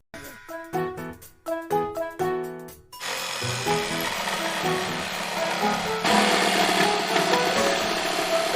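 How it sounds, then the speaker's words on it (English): A Sawzall reciprocating saw runs continuously and close, a loud, dense buzzing rasp that starts after a few seconds of sharp knocks and grows slightly louder partway through. "that is a Sawzall or skill saw, which is intended basically for home remodeling"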